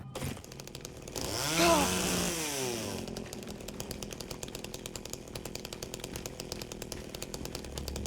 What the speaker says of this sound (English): Got ourselves a chainsaw.